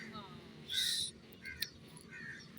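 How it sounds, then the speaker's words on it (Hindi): Crows caw a few times from a distance, faint harsh calls spaced out over a quiet outdoor background. "कौवे तो यहाँ पे बहुत हैं।"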